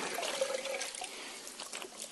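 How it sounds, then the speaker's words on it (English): A small amount of water trickles and splashes onto a painted surface during wet filing of a paint run, a close, soft, continuous dribble lasting about two seconds. "A little bit of water."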